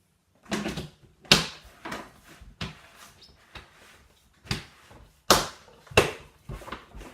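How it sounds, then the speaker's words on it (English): A plastic lid is pressed and snapped down onto a rosehip wine fermenting bucket, giving a series of sharp, loud knocks and clacks with short gaps between them. "Let's put the lid on."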